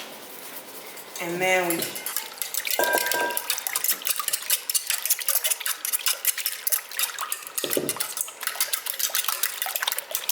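A fork beats an egg wash of four eggs, water and seasoning in a bowl, giving a rapid, continuous clatter and clink close up after a short spoken phrase.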